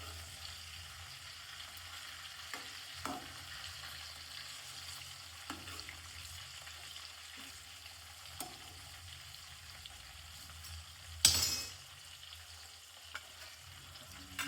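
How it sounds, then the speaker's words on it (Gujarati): Tomatoes and onions fry in a pan for a village-style chutney, with a faint, low sizzle broken by occasional soft clicks and one sharp clatter near the end. "આપણે હજુ કમ્પ્લીટલી ફ્રાય થવા દેવાના છે ટામેટા ડુંગળીને બધું"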